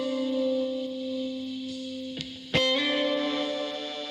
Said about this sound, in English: And there's the stylophone.